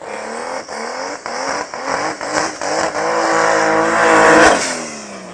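A BMW 325 2.5-litre turbo and a 200 hp Audi Coupé 2.5-litre turbo at a drag racing event rev their engines in repeated sharp bursts, then rise into a sustained roar, close and loud.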